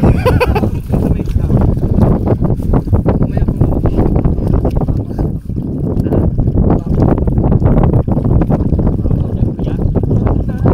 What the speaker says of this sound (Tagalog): Hangin talaga yun, te.